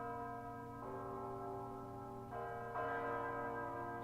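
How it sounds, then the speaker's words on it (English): Funeral church bells tolling in an anime episode, sustained resonant metallic tones ringing out with a fresh strike renewing the hum about every second or two, steady and clear with no talk. "Funeral bells?"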